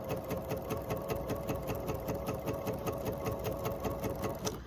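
A sewing machine stitches a diagonal line across a 4-inch Ohio Star quilt block, its steady fast needle chatter running close and continuous with a hum underneath.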